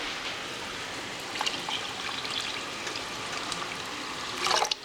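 Tap water, four cups' worth, runs steadily into a pot for beef bouillon soup in a home kitchen, a continuous close trickle and splash building louder near the end.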